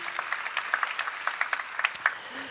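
Applause from a church congregation, a steady patter of many hands clapping at moderate volume with no talk over it.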